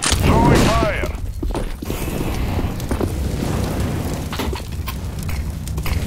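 A molotov or incendiary grenade is thrown in Counter-Strike on the Inferno map: a loud burst at the start, then a sustained roaring fire-like wash beneath a voice on team chat.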